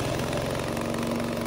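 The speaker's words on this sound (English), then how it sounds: "use the button on the control panel to start the gasoline engine" The gasoline engine of a VTLM600 remote-controlled brushless mower runs at a steady, even idle, a close, continuous mechanical hum with a firm low pulse.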